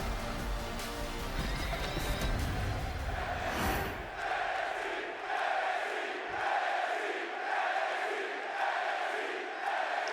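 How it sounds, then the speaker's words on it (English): Crowd at a wrestling main event roaring as the match starts, a dense wash of cheering at first that gives way to rhythmic, swelling waves of chanting and shouts from a large arena audience. "And here we go, crowd on their feet."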